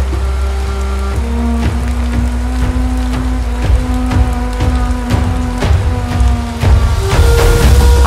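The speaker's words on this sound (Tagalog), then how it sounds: "di namin inaasahan na uulan ng ganito kalakas sa pagpunta namin" Heavy rain pours down steadily in a dense, continuous wash of noise over a low, constant hum, with no voices.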